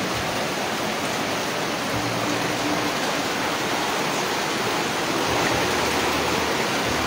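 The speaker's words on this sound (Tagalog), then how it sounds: "Grabe yung ampas ng tubig dito" Floodwater rushes through a flooded neighborhood in a continuous, loud, close roar that stays even from start to finish, with no speech.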